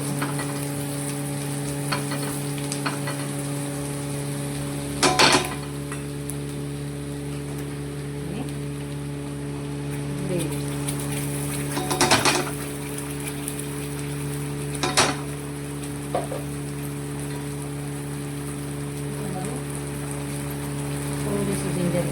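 Oil and butter sizzle in a pan for butter chicken, a steady close frying hiss with a few sharp clanks and scrapes of a utensil spaced through it, over a constant low hum.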